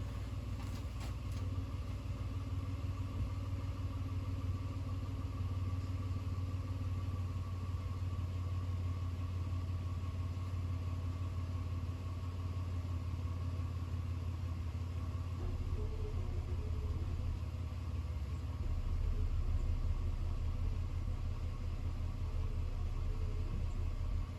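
A car engine idles steadily at a low, even level, a faint continuous rumble and hum with no voices and little change until a slight swell near the end.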